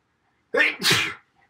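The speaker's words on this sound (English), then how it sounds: "I sneeze after I eat" A single sharp sneeze after eating, a quick intake followed by a burst, close and loud, in otherwise near silence.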